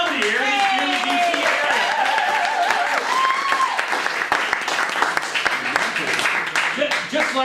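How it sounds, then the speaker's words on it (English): Loud, dense audience applause fills a live comedy show in the DC area, sustained throughout with a voice speaking and whoops rising over the clapping. "Here's some applause for coming out, supporting live comedy"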